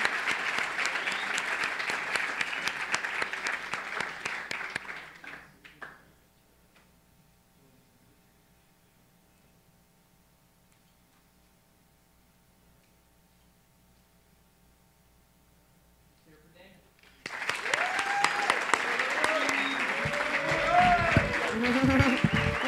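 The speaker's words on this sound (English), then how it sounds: "let's give another round of applause for all of our top 10 recipients this year" Audience applause at a college Top 10 Freshmen awards ceremony, loud and sustained for several seconds, then a quiet gap, then a second round of clapping.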